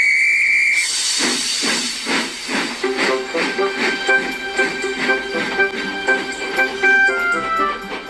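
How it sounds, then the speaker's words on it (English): A steam locomotive in an animated railway story lets out a sharp burst of hissing steam, then a series of puffs and sustained whistle tones carrying over the chugging. "Soon, Emily was steaming up hills and through valleys."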